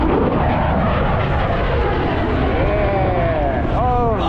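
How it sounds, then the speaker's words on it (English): A propeller aircraft at full throttle roars past at an airshow, loud and sustained, its pitch sliding downward as it passes, while excited voices carry on underneath. "that engine is amazing"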